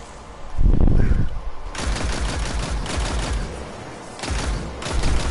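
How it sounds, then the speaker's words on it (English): Automatic machine gun fire in Destiny 2, loud and close, rattling in sustained rapid bursts after an initial heavy thump, with a short pause before a final burst. "I actually like the sound of the machine gun"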